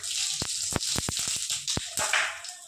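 Bay leaf, two dried chillies, cinnamon and whole cumin fry in hot oil, a steady close sizzle broken by a series of sharp pops and crackles.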